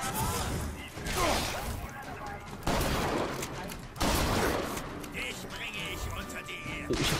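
Gunfire in the video game BioShock Infinite, bursts of rapid shots and heavy blasts in repeated waves, with a voice talking over the action.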